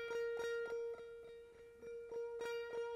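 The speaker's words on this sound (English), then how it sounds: "This is the sound of his original guitar." A clean electric guitar part, recorded dry in Logic Pro X, plays repeated plucked notes in a steady rhythm over a ringing sustained tone. It stands alone, with no talking.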